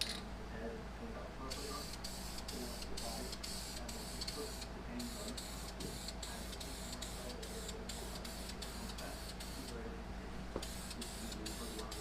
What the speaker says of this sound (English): I'll start off with the primer. I shoot light coats on there.